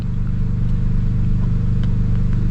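A Volkswagen Virtus 1.0 TSI with a downpipe, muffler-delete catback and dual exhaust tips drones loudly and steadily with a rough, throbbing exhaust note and no voices.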